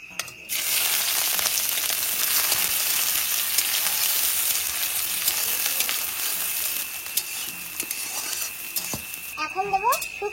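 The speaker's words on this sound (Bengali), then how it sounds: "এখন দেবো এই যে পেঁয়াজ আর রসুন।" Onion and garlic frying in oil in a wok while dried fish is being cooked, giving a loud, steady, close sizzle that lasts almost the whole time, with faint stirring clatter near the end.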